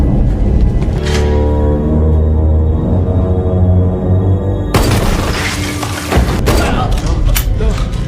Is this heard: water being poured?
no